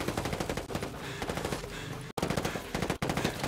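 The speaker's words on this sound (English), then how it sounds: "If you get too close, he starts using his minigun." A minigun in Ghost Recon Breakpoint fires a long, continuous rattling stream of rapid shots, loud and close, broken by two very brief pauses.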